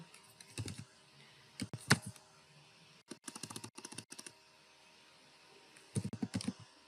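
Code being typed on a computer keyboard, with quick bursts of close, crisp key clicks separated by short pauses and no talking.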